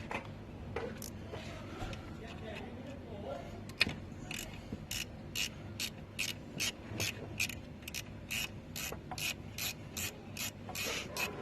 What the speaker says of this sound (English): you might need the baby ratchet set